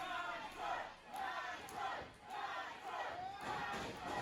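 A wrestling crowd roars and chants in rhythmic waves, swelling and fading about every second as the audience is fired up, heard at moderate distance with no clear speech.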